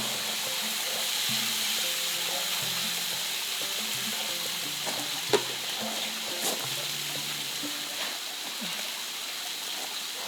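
Mushrooms and tomatoes frying in a kazan, a steady close sizzle and bubbling hiss that runs throughout, broken by a couple of faint clinks and stirring sounds, with no talk.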